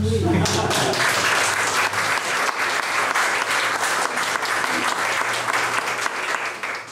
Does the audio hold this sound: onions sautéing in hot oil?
no